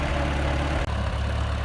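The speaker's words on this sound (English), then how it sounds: "I'm going to get back on that tractor and" A tractor engine idles outdoors in a pasture, a steady low rumbling chug with one brief dropout midway.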